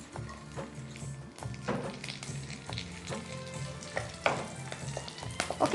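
Fennel seeds and green chilli pieces fry in a pan, giving a steady close sizzle and crackle with occasional stirring scrapes throughout.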